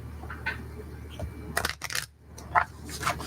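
Light riffling and snapping of playing cards in short bursts, close by, with soft rustles in between and no talking.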